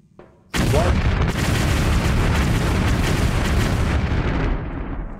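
Explosion in a Tomb Raider level editor game: after a brief quiet start, a loud, broad blast erupts and sustains as a dense roaring rumble for several seconds before tapering slightly at the end.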